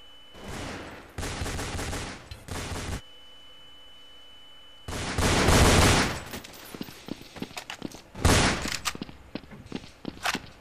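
Counter-Strike gunfire from an AK rifle and a USP pistol comes in loud rapid bursts separated by quieter gaps, with footsteps and scattered single shots in between.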